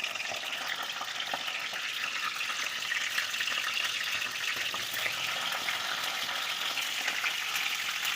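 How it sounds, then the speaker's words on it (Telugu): Eggplants sizzle steadily in hot oil in a home kitchen pan while a stuffed eggplant curry is prepared, a dense, continuous crackle and hiss that stays even and close throughout, with no voices. "ఆయిల్ వేసుకున్నామండి ఇప్పుడైతే ఇవి వేసుకోవాలి వంకాయలు"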